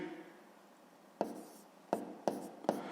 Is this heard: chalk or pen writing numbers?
yes